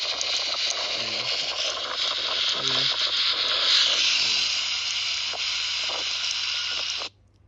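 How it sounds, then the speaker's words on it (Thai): Heavy rain hisses steadily and loudly as picked up by a MUFU V12S Pro helmet camera on a motorbike, a dense continuous wash that runs for about seven seconds before cutting off abruptly. "เสียงซ่าหนักๆก่คือฝนตกอยู่นะครับ"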